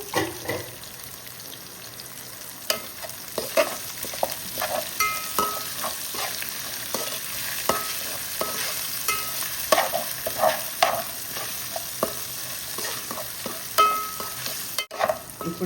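Whole spices and bay leaves frying in oil for a mushroom curry, a light steady sizzle broken by frequent scraping stirs and small clinks of a spoon against the pan.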